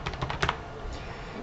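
Keys clatter on a computer keyboard as a password is entered, a short burst of quick, uneven taps close by, with a brief cluster of louder presses in the middle.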